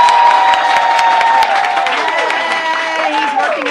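A studio audience applauds and cheers loudly for Jared Padalecki, with dense clapping and whooping voices rising above it. The applause stays steady for the whole stretch.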